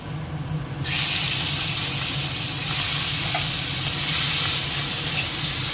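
Prawns hit a hot pan with dry red chilli and cumin, a sudden loud burst of hissing sizzle that holds steady and bright near the pan, with occasional stirring scrapes and no talk.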